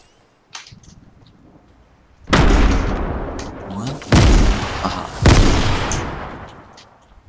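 Fortnite Season X gunfire cracks in three loud, sharp bursts with echoing tails, preceded by quieter game noise, and a player speaks briefly between shots.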